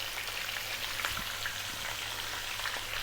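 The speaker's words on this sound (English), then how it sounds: "What we're going to do next is add our onion" Onion drops into a hot pot of Ethiopian beef bone soup and gives a steady, close sizzle and crackle that holds at an even level throughout, with no talking.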